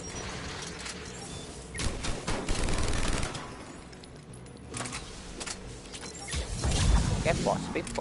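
Bursts of gunfire in the Mass Effect game, clusters of rapid rattling shots in two or three volleys, under ongoing talk and clattering effects.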